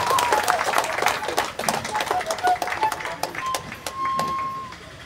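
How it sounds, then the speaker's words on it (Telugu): An audience at a meditation gathering breaks into sustained applause, many hands clapping steadily in a reverberant hall, with some voices mixed in. "మొట్టమొదట ఈ ధ్యానంలో రావడానికి కారణమైనటువంటి మన యొక్క జగద్గురుకు క్లాప్స్ ద్వారా మన యొక్క కృతజ్ఞతలు తెలుపుతున్నాను."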